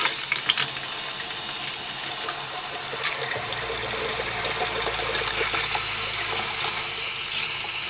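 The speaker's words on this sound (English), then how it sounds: "we're going to turn on the cold water first, and the antifreeze should come out" Cold water runs from a fifth-wheel RV faucet while flushing antifreeze during dewinterizing, a steady hissing stream into a sink that grows fuller and more constant after a few seconds, with a low pump hum joining in.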